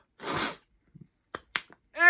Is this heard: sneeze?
yes